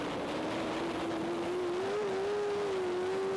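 A FIM sidecar racing outfit at Le Mans brakes hard for the chicane, its engine a loud, steady drone whose pitch drifts slightly as it slows, close and continuous throughout.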